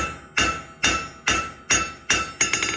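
A blacksmith hammers the ears of a forged donkey head on an anvil: six loud, evenly spaced ringing metal blows, each decaying quickly, the last few coming in a quicker double-struck cluster.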